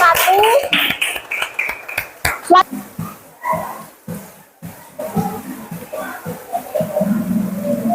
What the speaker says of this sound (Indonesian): Kita belikan aplaus dulu ya dari kelompok